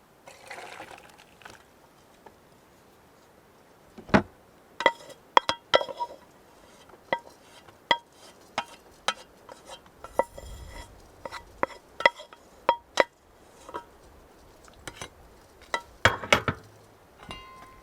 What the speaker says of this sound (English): And we'll strain them.